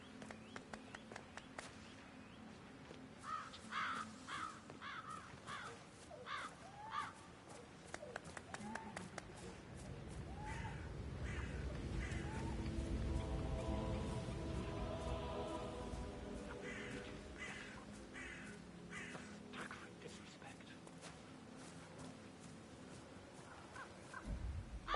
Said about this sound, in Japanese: Damn birds!